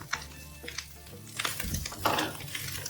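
Garlic cloves and a medium onion fry in a pan with a low, steady sizzle, broken by scraping stirs and a few light clinks of a utensil against the pan.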